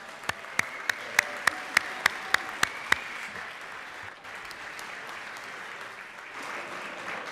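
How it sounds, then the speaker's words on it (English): Applause in the Georgia House chamber, opening with a run of sharp, evenly spaced claps before a softer spread of clapping across the room continues. "Just give them a round of applause."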